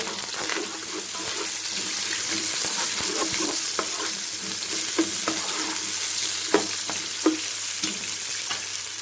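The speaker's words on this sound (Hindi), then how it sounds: "इसके साथ ही हम ऐड करेंगे अपने कटे हुए प्याज, डालकर अच्छी तरह से हम भून लेंगे।" Chopped onions frying in about half a cup of oil for pulao, a steady close sizzle with repeated stirring scrapes and clicks and a faint low hum underneath.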